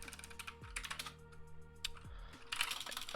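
Quiet, steady typing on a computer keyboard while coding an OpenGL triangle, a stream of light key clicks with a couple of heavier thumps and a low hum beneath.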